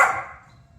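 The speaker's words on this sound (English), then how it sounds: "I know you want a mouse, but you don't need to be barking" A single sharp bark from Cooper the dog, loud at the start and quickly fading into quiet room tone, with no talk over it.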